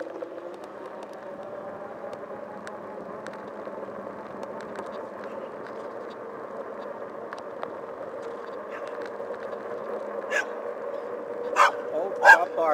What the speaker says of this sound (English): I said stop barking.